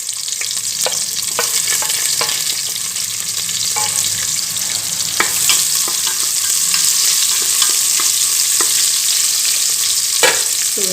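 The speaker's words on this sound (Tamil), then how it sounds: "ஒரு வெங்காயத்தை நீல வாக்கில் கட் பண்ணியிருக்கேங்க. இப்போ அதை உள்ளே சேர்த்து நல்லா வதக்கி கொடுத்துக்கலாம்" Sliced onion sautés in a hot pan with steady, continuous sizzling and frying, punctuated by repeated scraping clicks of a spoon stirring through it, with no talking.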